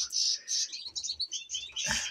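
A free-flying pet parakeet chirps close by in a series of quick, bright tweets and short trills, with brief gaps between calls.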